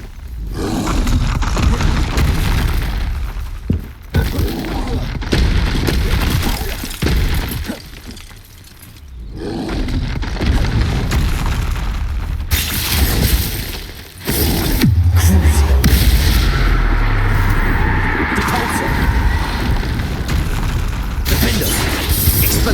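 Bombarda explosion spells in the Hogwarts Legacy video game, heavy booming blasts with shattering debris and roaring magic effects, loud and repeated amid continuous battle noise and other spell sounds.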